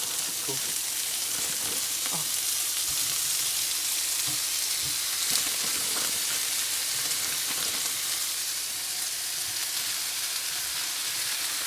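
Beef mince fries hard in a hot pan, a steady dense sizzle running the whole time with a few faint knocks and scrapes underneath.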